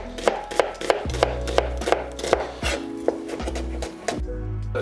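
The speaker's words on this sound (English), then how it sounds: "If you do these one at a time and then you just start chopping on top of this" A knife chops an onion on a cutting board, with about a dozen sharp, close chops in a steady, brisk rhythm over a low background hum.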